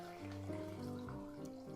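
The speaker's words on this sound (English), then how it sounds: "So here I have a jug with a sieve on top, and I'm just going to pour this straight into the jug." Lime liqueur is poured through a sieve into a jug, giving a soft, steady trickle and splash of liquid heard up close and fairly quiet.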